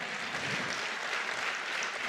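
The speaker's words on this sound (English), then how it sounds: "Clap your hands like you're learning." An audience claps together at a church gathering, a steady wash of hand claps heard from a short distance, fairly soft and continuous.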